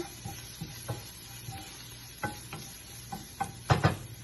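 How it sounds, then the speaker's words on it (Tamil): Cumin powder and garam masala are stirred in a pan for a paneer sandwich filling. A spoon makes soft, intermittent scraping strokes against the pan, ending in a louder cluster of scrapes and clinks, with no talk. "சீரகத்தூள் கரம் மசாலா தூள், நல்லா கலந்துக்கோங்க"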